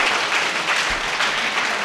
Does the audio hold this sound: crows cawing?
no